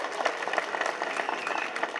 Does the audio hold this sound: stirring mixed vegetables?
no